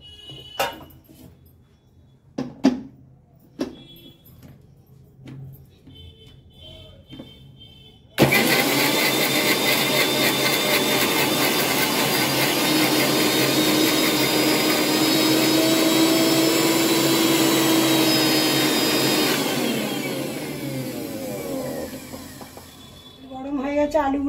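Mixer grinder blending ginger, garlic and onion into a spice paste, a loud steady motor whine with grinding texture running for about eleven seconds before cutting off, preceded and followed by quieter kitchen clatter and talk.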